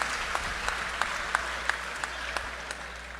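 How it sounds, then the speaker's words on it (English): An audience at a community anti-crime town hall meeting gives a round of applause, steady dense clapping with a few sharper individual claps standing out, heard from within the room. "Let's give them a round of applause."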